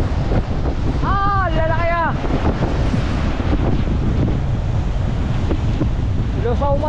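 Strong wind buffets the microphone as ocean waves roll and crash nearby, loud and constant along a shoreline. Someone talks briefly over the roar.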